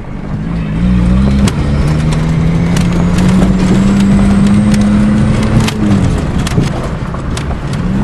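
A Dodge car with a 5-speed transmission runs steadily, its engine drone holding a constant loud hum, slightly rising and falling, with scattered clicks and ticks over it.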